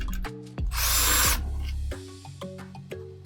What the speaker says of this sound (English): we need to get the motor out, which is held in by, I think it's 3 Phillips head screws